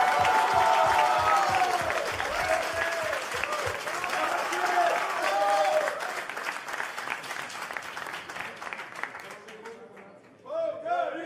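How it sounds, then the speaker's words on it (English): A crowd applauds at a poker final table in Barcelona, loud sustained clapping and some cheering with voices in the mix, tapering off near the end as people talk. "let's get a big round of applause for our runner-up, Lachizar Petkov."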